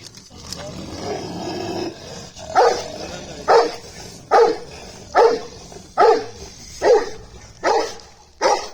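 A dog gives a low growl, then barks loudly in a steady series of about eight evenly spaced barks, close by.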